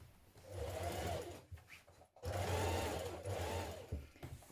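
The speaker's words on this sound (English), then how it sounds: "So just start sewing from here." A sewing machine runs in two steady bursts while stitching a trouser seam with a 1.5 cm seam allowance around a curve, its motor whirring close and loud, broken by a brief pause near the middle.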